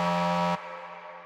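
A drum and bass synth tone brightened by overdrive, heard as a bright, buzzy sustained note that cuts off after about half a second to a thinner, quieter tail. It plays alone.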